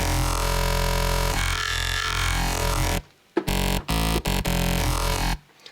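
Crossfaded wavetable synth waveforms for dubstep, made from a Lamborghini, roar as a dense, continuous gnarly tone, then break into choppy, stuttering bursts with short silences between them, loud and alone with no voice.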